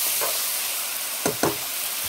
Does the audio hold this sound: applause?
no